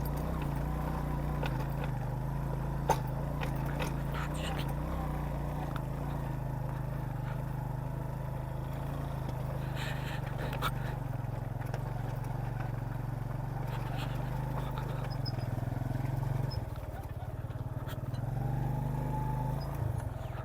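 A motorcycle rumbles over a bumpy stony mountain road toward Naltar Lakes, its engine low and steady with rattles and knocks from the rough surface, no talk.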